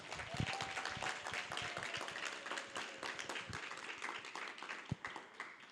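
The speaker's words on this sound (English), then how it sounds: "Please give Leah a round of applause." An audience applauds a speaker at the Greater Lafayette Resistance Fair, a steady wash of clapping that stays loud throughout, with a few sharp individual claps standing out and a faint murmur of voices underneath.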